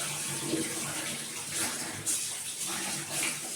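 Running tap water gushes steadily over fish being washed in a home kitchen before cooking a Thrissur-style fish curry, a continuous close splashing with no talk.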